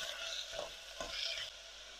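Onions and garlic soften gently in a pan, a faint, low sizzle with soft scraping stirs rising twice.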